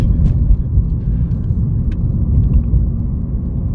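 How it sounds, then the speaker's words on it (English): The 2.0-litre turbo engine of a 2016 Lexus IS200t pulls hard under acceleration, a loud, steady low rumble heard from inside the car with a faint turbo whir riding on top. "I can hear the turbo. Like I said, it's a small little turbo, but you can hear it like kind of spooling around"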